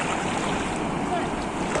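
Waves at Dancalan Beach roll and wash in a steady, dense roar with wind buffeting the microphone, loud and continuous throughout, no talking.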